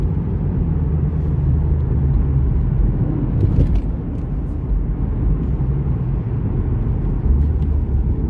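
A turbocharged car passes close by with a loud, continuous engine rumble and roar that stays strong throughout, without speech.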